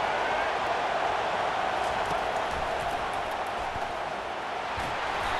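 Steady, dense roar of a stadium crowd in an American football video game, continuous and fairly loud throughout with no clear voices standing out.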